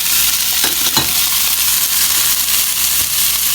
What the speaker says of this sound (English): Give the pork a little sizzle.